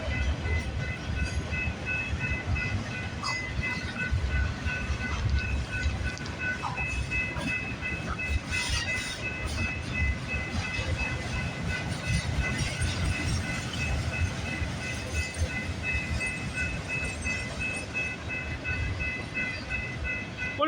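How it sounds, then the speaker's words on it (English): A CN freight train, 734 axles long, rolls steadily past on the tracks in a continuous, fairly loud rumble with faint wheel clatter, no voices heard. "734 axles on the CN train."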